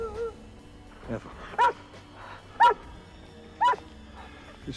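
Dog barking in the horror film Abominable, three loud sharp barks spaced about a second apart, with faint whimpering and background sounds between them.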